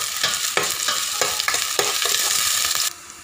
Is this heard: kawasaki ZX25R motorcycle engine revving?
no